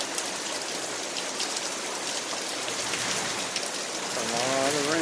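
Heavy rain pouring during a storm, a dense, steady hiss of falling water on surfaces, close and constant, with a faint voice briefly at the end.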